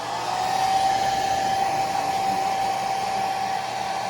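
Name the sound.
hair dryer blowing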